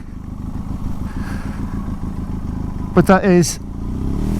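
A Benelli TRK 502X motorcycle engine idles and rumbles at low revs as the bike turns around on a wider stretch of road, steady and close, while someone talks over it.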